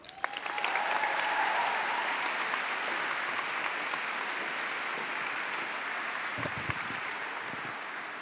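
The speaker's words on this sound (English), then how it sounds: "that very, very long round of applause" A long, sustained round of applause from a large crowd at a university welcome event for the incoming class, greeting the university president; even, moderately distant clapping that holds steady throughout without any talk.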